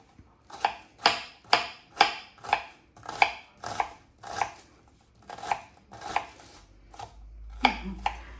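Knife finely chopping onion on a cutting board, a steady run of about fifteen crisp close chops that slow and space out toward the end.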